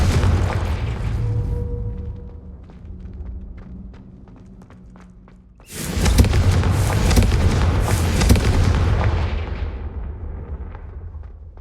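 Booming fire-spell blasts in a Harry Potter video game, a rumbling burst erupting loudly around the midpoint over a steady low game ambience, followed by sustained crackling roar.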